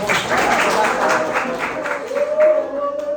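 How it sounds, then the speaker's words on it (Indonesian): A classroom audience claps after a group presentation, a steady patter of many hands that is fairly close, with voices talking over it. "kita berikan aplaus ke mereka"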